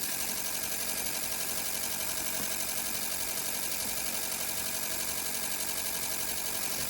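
A Ford V8 on a Speeduino engine-management build idles at a steady speed, giving a constant, even rumble that runs unbroken throughout with no voices over it.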